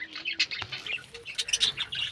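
Busy, close chirping and tweeting from several small pet birds eating neem-leaf greens, with light rustling and brief wing flutters; no voices.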